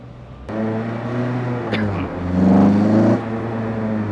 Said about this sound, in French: On entend l'admission là, c'est extraordinaire.